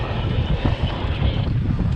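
Steady wind roars across the microphone aboard a sailboat in a 15 to 17 knot breeze while coasting, a constant low buffeting rumble with water noise underneath and no voices.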